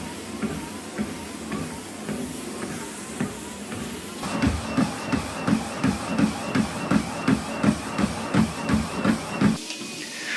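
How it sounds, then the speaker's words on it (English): A Toputure TP6 treadmill with a 2.5-horsepower motor runs at about 2 mph with a low hum and belt hiss, joined after a few seconds by a steady rhythm of soft footfall thumps on the moving belt. "At walking speed around 2 miles per hour, the belt noise is minimal."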